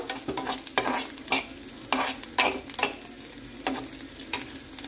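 Garlic fries in a little oil, a soft steady sizzle broken by repeated scraping strokes of a spoon stirring in the pan, close by and fairly quiet with no talking.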